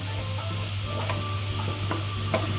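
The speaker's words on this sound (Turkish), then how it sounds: "bulgurumu iyice kavurdum ben" Bulgur being roasted dry in a hot pan, a steady close sizzle with a few scraping stirs, no talk.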